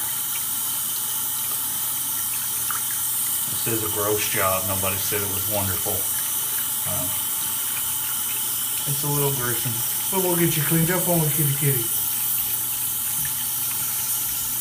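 A tap runs steadily while a dirty kitten is bathed under the stream, the water a constant hiss broken by splashy surges as it hits fur, with someone talking softly over it.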